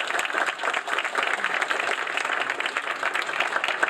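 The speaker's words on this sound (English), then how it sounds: "Let's give a round of applause to the nominees." A round of applause for nominees at the Youth Work Awards 2017: dense, even clapping from a large audience, loud and continuous throughout with no break.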